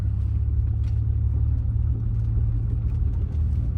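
A 1985 Mercedes-Benz W123 280E with automatic transmission idles close by, its engine a steady, loud low rumble with an even hum that holds unchanged throughout.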